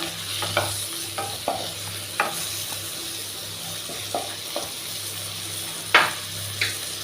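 Turmeric and salt frying in a pan as a spoon stirs them, with a string of light scrapes and taps spread over a steady soft sizzle and one sharper clack near the end, heard without any talk.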